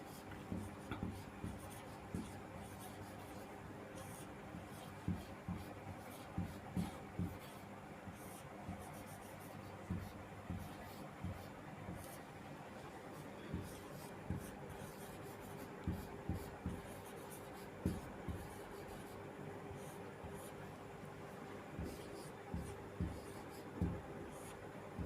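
A pen or pencil writes notes by hand for a Vedic math lesson, giving faint scratchy strokes in irregular bursts over a steady low room hum, close but quiet.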